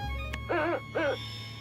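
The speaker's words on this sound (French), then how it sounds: "Il avait aussi apporté Oggy, le super hibou doté d'un super pouvoir très particulier." Two short warbling hoots from a cartoon super owl, each lasting about a quarter second and spaced closely together, sounding clear and near over a low background hum, with no talking.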